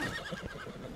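A horse in a pirate-cowboy video game gives a single close, loud whinny that rises and wavers across the short moment, with no voices over it.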